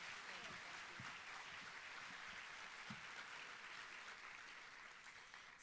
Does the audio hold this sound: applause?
yes